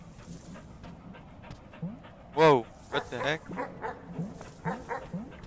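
A dog in the video game Animal Well pants and barks in short yappy bursts amid game sound effects, while a player speaks briefly over it.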